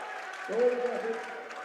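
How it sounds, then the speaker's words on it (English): A home crowd at an NCAA men's basketball game between Trinity University and Wisconsin Lutheran swells into a brief roar and cheer after a made basket, blended with a commentator's voice. "Their entire crowd just roared as soon as that ball went into the basket."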